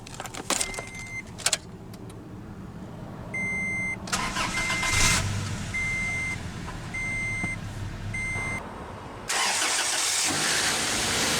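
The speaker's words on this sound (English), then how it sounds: "let's go ahead and start the engine" A 2010 Toyota Tacoma SR5 Access Cab with the 2.7-liter inline-4 and 5-speed manual gives repeated electronic chimes, then the starter cranks briefly and the engine catches, settling into a steady idle heard up close.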